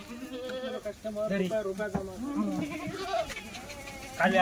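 Kathewadi goats bleat from a livestock truck, several overlapping calls near and loud, with a sharper bleat at the end.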